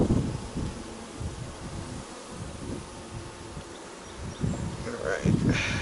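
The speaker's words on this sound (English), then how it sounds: "And a couple bees." Honey bees at a hive during an inspection hum in a low, wavering drone close to the microphone, with bursts of rustling and handling noise and some wind buffeting.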